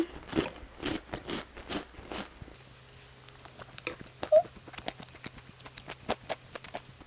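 Close chewing on crispy whole wheat bread, with a steady run of crunchy bites and mastication at a regular rhythm and no talk.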